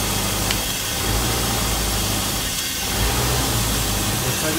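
An LS engine swapped into a 30-foot Bayliner boat idles around 750 RPM, a steady, close, rumbling drone with a slight rhythmic pulse and broad noise, no talking.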